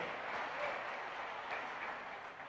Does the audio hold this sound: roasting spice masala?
no